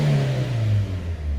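A GT race car engine revs hard at Monza, a loud, close, rough growl with a pitch that wavers as the throttle opens and eases.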